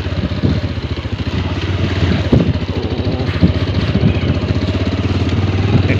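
A motorcycle engine runs on a village road near a pond, putting out a steady, close, chugging idle with a rattly clatter that holds for several seconds.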